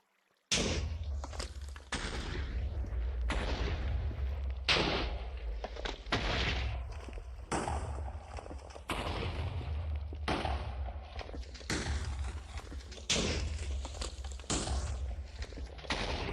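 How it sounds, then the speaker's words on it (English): Explosions go off in a base on a Minecraft anarchy server, a loud run of heavy booms repeating every second or two for the whole stretch, each followed by a short rumbling decay. "Wait until the explosions are finished before turning back on."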